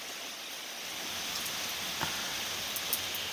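Rain falls outdoors in a steady, dense hiss of drops, with a few slightly louder spatters now and then, continuous and even with no voices.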